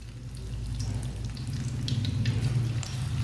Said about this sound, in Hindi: अब पकोड़ों को 2 मिनट के लिए पकने देते हैं